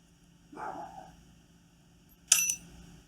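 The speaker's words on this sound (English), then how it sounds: "If you hear the barking in the background" A small Chihuahua gives a short bark in the background, faint and a little distant, followed by a sharp metallic clink.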